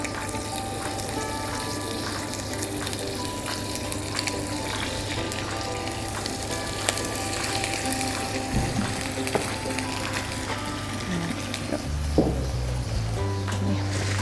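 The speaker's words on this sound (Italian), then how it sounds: "Allora prendiamo le nostre alici aperte e pulite e le andiamo ad unire al nostro aglio soffritto." Cleaned, opened anchovies fry with sautéed garlic in a pan, giving a steady close sizzle and crackle throughout, with a low hum and a brief clunk near the end.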